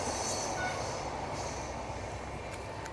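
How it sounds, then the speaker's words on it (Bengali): Rajdhani Express passing close by a trackside lodging at Simultala, a steady loud rumble of wheels on rail with faint squeal, continuous for the whole stretch with no talk. "ঠিক উল্টো দিক থেকে দেখুন যাচ্ছে রাজধানী এক্সপ্রেস।"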